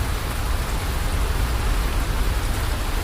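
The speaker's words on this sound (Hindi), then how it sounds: "गर्मी का मौसम था और अचानक बारिश शुरू हो गई।" A sudden heavy rainstorm on a hot summer day pours down in a dense, steady roar of rain, loud and close, with no break.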